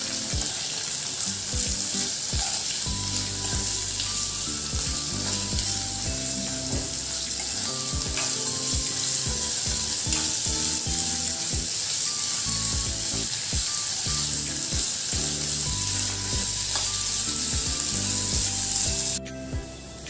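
Sliced onion frying in a pan for a chicken dish, a long steady sizzle with patches of tonal hum, continuous and fairly loud until it cuts off near the end.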